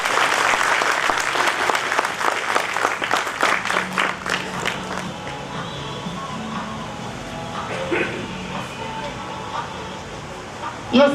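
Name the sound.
audience applause welcoming a speaker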